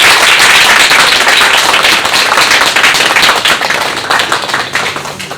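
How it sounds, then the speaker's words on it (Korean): A church congregation gives newcomers a warm round of applause during a Sunday service, loud and sustained clapping from many hands that slowly thins toward the end. "우리 뜨거운 축복의 박수를 드립니다"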